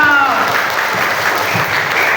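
Dense, loud applause from a student audience at a school orientation event after an alumni speaker introduces herself, continuous throughout with voices calling out over the clapping.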